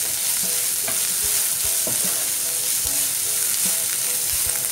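Chopped onions with a pinch of salt sautéing in a pressure cooker: a steady close sizzle broken by periodic scraping stirs, with no voices.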